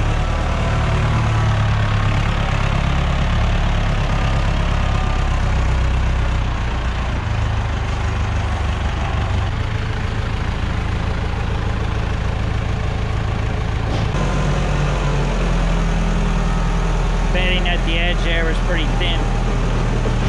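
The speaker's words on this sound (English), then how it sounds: "coming in here with the tiller" An old tractor engine chugs steadily at close range while rototilling manure into a bed, a low continuous rumble throughout, with a voice speaking over it.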